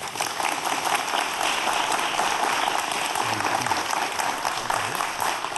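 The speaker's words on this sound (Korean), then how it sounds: "큰 박수 부탁드립니다" Sustained applause from a large audience after a lecture, dense and even clapping that fills the whole stretch without pause.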